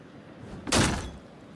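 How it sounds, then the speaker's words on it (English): A door is smashed in the video game Until Dawn: one sudden heavy crash bursts out midway, then fades quickly over a quiet background. "I'm gonna smash the door."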